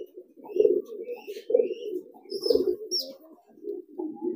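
A male pigeon coos loudly and repeatedly in close, throaty rolling phrases, with faint chirps from other birds in the background.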